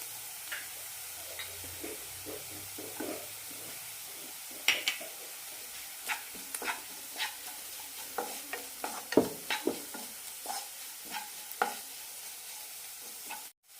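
Turmeric and chili powder roast with fried onion in a pan, a soft low sizzle beneath repeated light taps and scrapes of a spoon stirring at an uneven rhythm.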